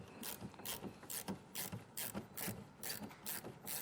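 A T15 Torx bit backing out a wheel well liner screw on a 2021 Cadillac XT6. A quiet ratcheting tool clicks in a steady repeating rhythm of about a dozen sharp ticks, up close, with no talking.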